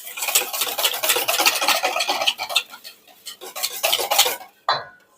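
A utensil whisks and stirs clafoutis batter in a bowl, giving a fast, continuous scraping clatter against the sides that pauses briefly near the end before one last knock.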